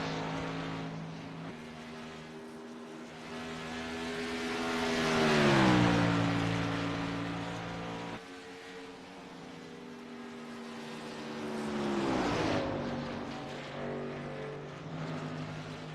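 Race cars pass on a track, engine notes sweeping down in pitch with two distinct drive-bys, each swelling and fading, with no talk over them.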